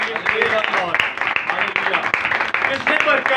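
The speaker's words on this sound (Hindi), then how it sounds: "जोरदार तालियां खुदावंद के जलाल के लिए।" A church congregation applauds loudly in praise during a Hindi-language worship service, with dense sustained clapping and voices shouting over it throughout.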